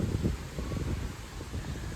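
Steady, blustery wind roars low and continuous across the whole stretch, with gusty buffeting and a faint rustle on top, no voices.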